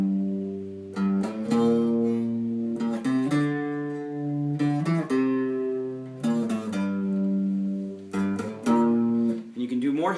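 Bass line of a song picked on guitar for a lesson, sustained low notes moving in steady phrases with repeated accented hits, close and clear with no talking.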